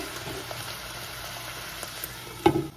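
Ground pork and eggplant adobo simmering in a pan gives a steady, close, low bubbling hiss throughout, with a brief louder pop or clatter near the end.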